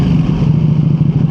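Ducati Panigale V2 motorcycle engine running loud and close, a steady, rough, heavy rumble with strong vibration through a short burst, no voices.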